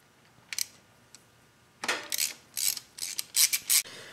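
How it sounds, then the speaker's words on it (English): A ratchet backs out the bolts of a clutch release cover on a Harley-Davidson Big-Twin motorcycle, brief sparse clicks followed by quick runs of crisp ratcheting clicks, close up and without talk. "So remove those bolts and remove the cover."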